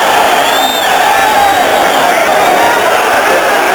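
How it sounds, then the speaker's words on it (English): A boxing arena crowd in Puerto Rico roars in a loud, continuous wall of cheering and whoops, with a commentator's voice over it. "Listen to this crowd."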